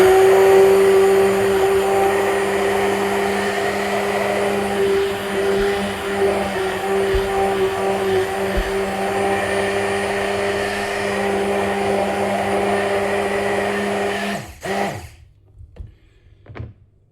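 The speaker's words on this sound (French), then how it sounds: "C'est bien de le faire avec un mixeur plongeant." An immersion blender whirs loudly and steadily through thick larch pesto, a constant motor drone that cuts off near the end, leaving a few faint knocks.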